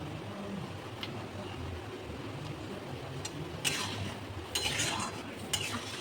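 Paneer butter masala being stirred in a pan, with soft scraping and a few light utensil clinks against the metal, fairly quiet and steady with no talking.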